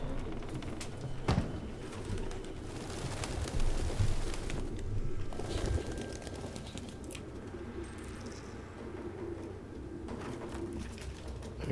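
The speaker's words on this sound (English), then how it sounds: "You probably could have told them that from the apartment full of pigeons." Pigeons coo and flutter inside an apartment in the video game Detroit: Become Human, a steady low ambient murmur of birds with a few louder wing bursts over twelve seconds.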